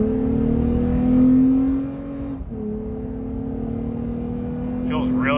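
A Toyota Tacoma fitted with a stock OEM muffler accelerating, a steady engine drone that swells, dips briefly as it shifts, then climbs again, heard from inside the truck.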